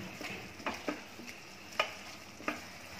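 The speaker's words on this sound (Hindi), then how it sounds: "इसको मिक्स करेंगे और ढक के इसको पकाएंगे ताकि आलू थोड़े से गल जाएं।" A spoon scrapes and stirs potatoes and peas in a pan while aloo matar pulao cooks, giving a few soft, scattered scraping knocks over a faint, steady sizzle.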